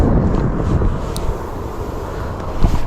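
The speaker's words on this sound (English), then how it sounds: "it's windy, freaking." Steady wind blowing over the microphone beside the Feather River in California on a rainy day, a broad continuous rush with gusts that swell and fade, no voices.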